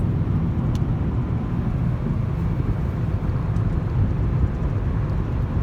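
A 2010 Lexus ES 350 cruising on a freeway, with a steady low road and engine rumble and tire hum running continuously from inside the cabin, no talk.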